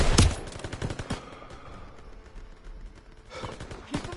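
Machine-gun fire in the Call of Duty WW2 game during a battle at a bridge in France: a loud opening burst followed by scattered sharp shots and another burst near the end, over a steady battlefield rumble.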